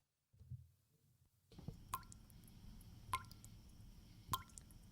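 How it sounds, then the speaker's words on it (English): Water drips from a leaky roof in three separate, evenly spaced drops, each a sharp, close plop over a quiet low background hum. "Do the drips have you down?"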